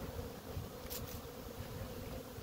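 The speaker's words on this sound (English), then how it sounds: "if you can see all these bees, but there's nothing but bees right here" Honey bees buzz around a beehive in a dense, steady drone that stays constant throughout, with no voices over it.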